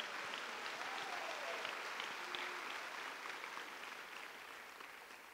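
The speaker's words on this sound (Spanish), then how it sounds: "Si alguien lo recibe, dé una ovación al Señor." Congregation applauding during a church service, sustained clapping of many hands that holds steady and then gradually fades, with no talk over it.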